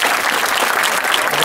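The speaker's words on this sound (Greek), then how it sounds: "Για να ακούσω ένα χειροκρότημα, θα είναι μεγάλο." Audience at a high school graduation ceremony in Trikala applauds, a dense steady roar of clapping filling the whole moment without a break.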